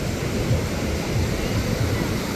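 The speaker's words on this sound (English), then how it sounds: "Overcast all day and tiny little waves." Tiny ocean waves wash onto a beach on an overcast day, a steady broadband rush of surf mixed with wind buffeting the microphone, continuous and fairly loud.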